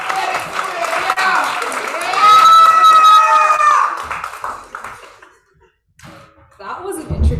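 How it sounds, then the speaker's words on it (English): A live open-mic audience claps and cheers loudly for two performers coming up to the microphone, a dense sustained burst of applause with whoops and laughter that fades out, then a brief quieter stir of the crowd. "Clap as they come to the mic. Keep clapping."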